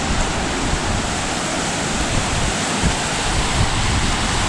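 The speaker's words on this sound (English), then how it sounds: "More little rapids." Rushing water from small rapids spills past a large old dam wall in a wooded preserve, a steady close broadband roar with no pauses and no voices.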